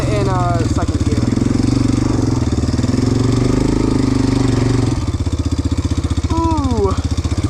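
Off-road vehicle engine revving hard in second gear while churning through mud at Whiskey Creek, a loud, steady, throaty drone that dips slightly partway through.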